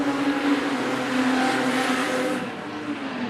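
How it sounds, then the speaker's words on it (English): A Ford Falcon race car struggles for traction through the bottom turn onto the back straight of a drying track, its engine a steady loud drone with a rising, strained note that eases off near the end. "That big Falcon battling to get the power down, seemed sideways through the bottom turn onto the back straight"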